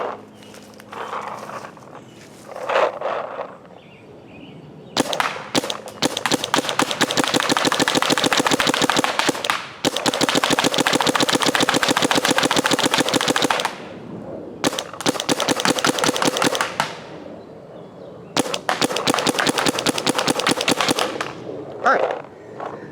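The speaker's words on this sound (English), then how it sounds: "let's try and shoot some of the pink practice grade paint" Paintball marker with an electronic hopper and ETHA 2 barrel firing pink practice-grade paintballs in long, rapid strings of sharp pops, separated by short pauses with a voice and quieter sounds in between.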